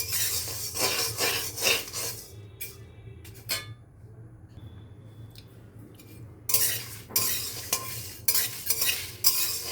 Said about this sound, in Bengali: এই মশলা ভেজে রাখবো